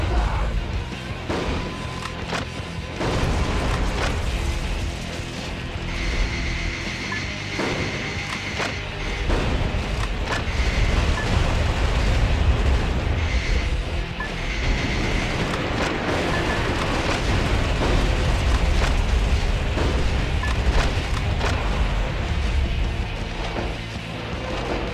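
Missiles explode around the player in the Metal Wolf Chaos video game, loud repeated thuds and crashes over dense continuous combat noise and gunfire.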